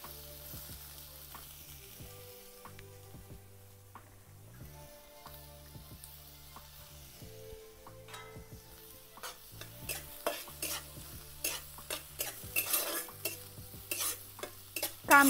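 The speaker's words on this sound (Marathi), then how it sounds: "तेल पण तापले, कांदा टाकून घेते." Onion dropped into hot oil in a heated pan, sizzling faintly at first, then louder with sharp clinks and scrapes as it is stirred, growing busier toward the end with no voices.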